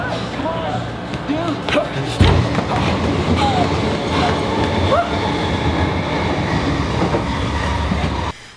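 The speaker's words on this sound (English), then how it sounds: "jumping in a train in Hong Kong at one of the stations" A train runs through a station in Hong Kong with a loud, continuous rumble and rattling wheels, a brief thump partway through and high squeals, and people talk over the noise.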